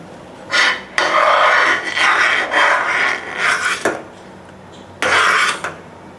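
A spoon scrapes and stirs thick Thiruvathirai kali batter in a pan over low heat, producing close, rasping strokes in repeated bursts of about a second each, separated by short pauses, with no talking.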